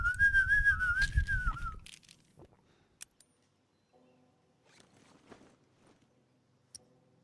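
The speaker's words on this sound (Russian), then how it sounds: "Я могу свистеть." A person whistles a clear, wavering melody for about two seconds, loud and close, over low background rumble, then the scene drops to quiet with a few faint clicks and rustles.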